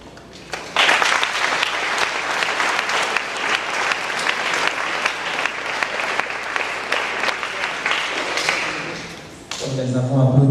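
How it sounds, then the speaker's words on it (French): Audience applause at a school entrance ceremony, a sustained burst of many people clapping that swells in, holds for several seconds, then fades as a voice and other sounds come in at the end. "Nous les avons applaudis"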